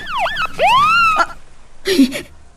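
A police car siren wails in short rising and falling sweeps close by, then stops, followed by a brief burst of noisy sound.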